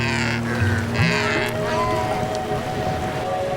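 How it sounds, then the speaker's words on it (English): Galapagos flightless cormorants giving harsh, honking calls in a short cluster early on, close by over a steady background drone, with faint speech-like sounds mixed in. "These are Galapagos flightless cormorants."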